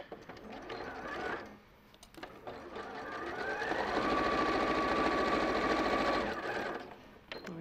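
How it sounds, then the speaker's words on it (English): A sewing machine stitches the side seams of a garment, running in a couple of bursts and then one long steady whirring run, close and loud, with a brief pause between. "So you sew your side seams."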